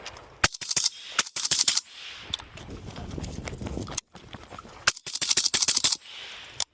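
Suppressed rifle gunfire through a Richmond Tactical RT30FS raw titanium suppressor: rapid strings of sharp cracks in bursts, with a brief pause and scattered single shots, close and loud outdoors.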